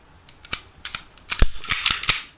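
Safety catch of a 1945 TT pistol being worked, a series of sharp, close metallic clicks and snaps in uneven rhythm with quiet gaps between.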